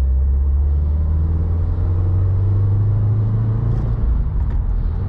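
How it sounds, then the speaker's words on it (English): A 2016 Subaru WRX Premium with a 6-speed manual pulls hard under acceleration, heard from inside the cabin as a loud, steady low engine drone with a faint higher whine from the turbo. "Hear that nice turbo whistle."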